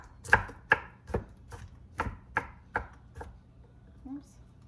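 A knife chops food on a board for hot sauce, about eight crisp, evenly spaced strikes heard up close in a quiet room.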